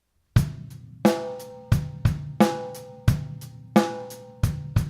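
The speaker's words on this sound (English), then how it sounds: "If you want to throw in a fill, it would sound something like this, using the toms." Drum fill played on rock kit toms: a run of eight loud, resonant tom strikes in a steady beat, each ringing and decaying before the next, played alone with no talk.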